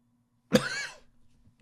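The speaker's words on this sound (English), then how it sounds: "This freaking cough." One close, single harsh cough bursts out and trails off in about half a second, with near silence before and after.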